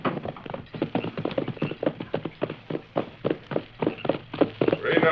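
Horses' hooves clip-clop steadily in a radio drama, a rapid rhythmic run of close, hard knocks with a faint voice underneath.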